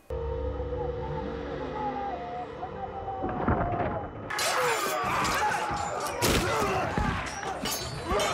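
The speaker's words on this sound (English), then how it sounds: "They just turned their cannons against them." Heavy cannon fire from pirate ships in a television drama, a dense barrage of booming blasts, crashes and debris over a loud, continuous battle background with no clear talk.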